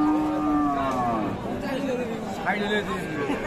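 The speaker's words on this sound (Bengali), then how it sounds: "এই যে গাভী, সাথে বকনা বাচ্চা" A local dairy cow with her heifer calf lets out a long, loud, falling moo close by at a busy cattle market, while crowd chatter and people talking fill the background.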